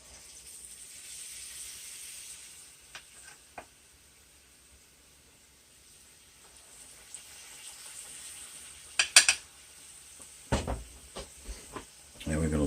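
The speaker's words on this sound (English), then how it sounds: "And we're going to let that fry till they're golden brown." Breaded, battered boiled eggs sizzle in hot oil at about 375 degrees, a low steady hiss throughout with a few sharper crackles and pops toward the end.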